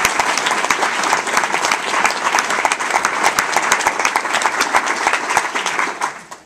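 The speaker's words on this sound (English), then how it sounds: "let's give them a round of applause" A conference crowd at an ACLU event in Sacramento breaks into a sustained round of applause, dense and loud, many hands clapping together before it tapers off at the end.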